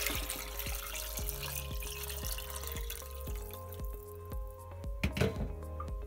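Water runs from a tap into a saucepan of cut potatoes, a quiet steady trickle and splash that fills the pot without pause.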